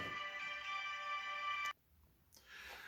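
A telephone rings with an incoming call: a steady electronic ringtone sounds clearly for under two seconds, then cuts off abruptly, leaving faint room noise.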